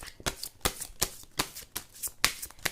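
Tarot cards are shuffled and drawn in a sharp, riffling rhythm of quick slaps and flutters, close and clear against a quiet room.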